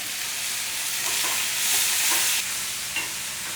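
Cumin seeds and black peppercorns sizzle and crackle steadily in hot oil for coconut rice, a close continuous hiss with a few sharper pops and some stirring, with no voices.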